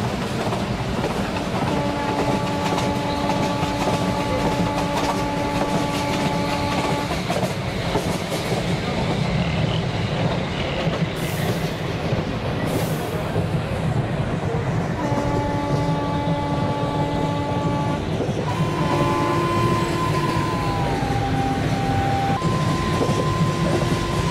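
In Indian Train Simulator, a GZB WAP4 electric locomotive hauls the failed Avadh Express, giving a steady rail rumble with clickety-clack under repeated sustained horn blasts.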